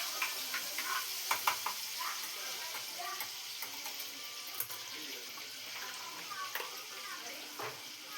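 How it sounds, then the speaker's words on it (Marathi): Whole spices tempering in a mix of oil and butter for a paneer dish, giving a steady broadband sizzle with scattered crackles and spatters, moderately quiet and close, with no voice present. "थोडंसं ऑइल आणि थोडंसं बटर टाकते. एक दोन्ही पण फोडणी देते."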